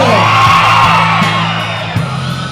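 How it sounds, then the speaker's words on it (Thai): A large crowd at a fan event in a Robinson shopping mall in Buriram, Thailand, screams and whoops loudly together in one sustained, roaring cheer, with a faint rhythmic thump underneath. "ถ้าสบายดีส่งเสียงกรี๊ดหน่อยเลย"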